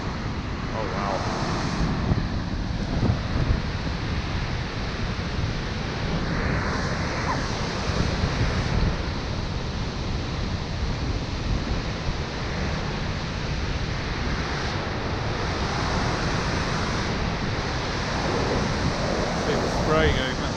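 Dettifoss waterfall in Iceland, Europe's most powerful, roars as a dense, continuous broadband rush with wind buffeting, loud and steady throughout.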